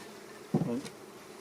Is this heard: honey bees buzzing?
yes